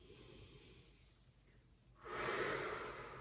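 Slow, deep breathing during a Pilates child's pose stretch in a mat class for over-50s, a soft exhale followed by a louder, breathy inhale, close and alone.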